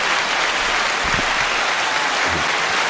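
Steady applause from a studio audience welcomes a guest onto the stage of a rap media talk show, a continuous wash of many hands clapping at fairly close range with no talking.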